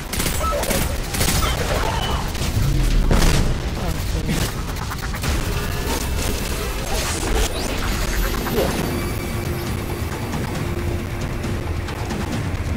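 Gunfire in the video game Destiny 2, with rapid bursts of shots and impact crashes over dense game effects, loud and continuous.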